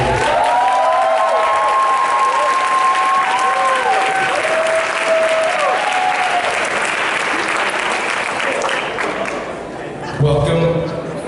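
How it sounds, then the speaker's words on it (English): Loud, sustained applause from a large audience at the Hip Hop International legends event, dense clapping filling the room for several seconds before tapering, with cheering and an announcer speaking over it. "Let's start off with an applause for the living legends sitting before you."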